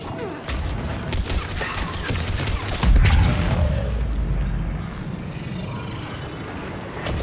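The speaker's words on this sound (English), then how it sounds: "Bionic explosion." A biotic explosion from the multiplayer mode of Mass Effect 3 bursts amid dense gunfire and game noise, one loud boom standing out near the middle before the din settles back.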